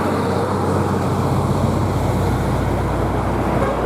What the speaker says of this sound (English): including the traffic, which you can hear in the background